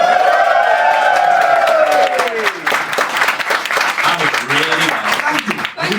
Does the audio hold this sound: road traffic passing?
no